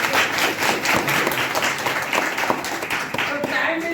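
An audience at a networking welcome event claps together in a steady, dense patter that runs throughout, fairly close, with voices mixed in underneath.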